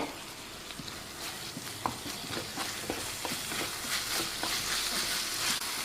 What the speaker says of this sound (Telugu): బాగా టమాటాలు కూడా వేసి బాగా వేపుతున్నాను అనమాట